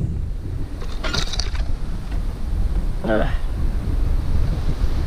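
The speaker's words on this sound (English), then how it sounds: "Awful windy today." Steady wind buffets the microphone with a constant low rumble on a lakeside mountain bike trail, while faint water and brief distant voices sit underneath.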